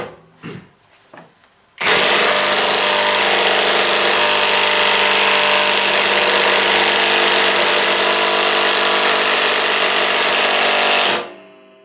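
A Graphite 58G024 cordless impact wrench unscrews a fastener in one long, loud, continuous burst lasting about ten seconds, preceded by a few faint knocks and then cutting off abruptly.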